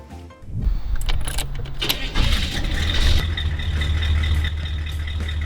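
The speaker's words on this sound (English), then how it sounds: "This is a 1926 Packard 7-passenger touring car with original equipment and a straight 6-cylinder engine" A 1926 Packard seven-passenger touring car with a straight six-cylinder engine runs steadily and close by, its low engine rumble continuous throughout with some metallic rattles and clicks on top; no talking.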